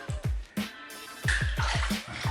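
Water splashes in quick, irregular handfuls as a face is wetted before a supermarket-products shave, close and fairly quiet, with a faint running tap underneath.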